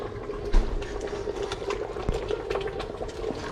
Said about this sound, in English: And I reckon we're ready for the fish. Looking good. And then add the fish.